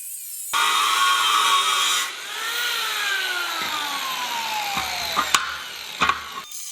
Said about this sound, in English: used my angle grinder with a cutoff wheel to cut the metal